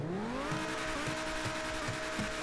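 A supercar in GTA 5 roars as the engine revs and climbs through gears, with rising tonal whine and repeated shifts, loud and close, alone without talk.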